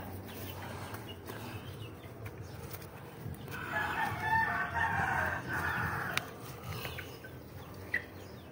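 Chickens on a farm where young pet chicks are raised, with a faint crowing call rising in the middle over quiet background noise, and a few soft clucks nearby.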